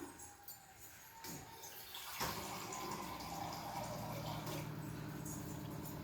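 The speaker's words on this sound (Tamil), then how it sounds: "கொஞ்சமாக தண்ணி ஊற்றிக்கலாம்" Water poured into a cooking pot in a home kitchen, starting with a sudden splash, then a steady gentle trickle and gurgle, fairly close and soft.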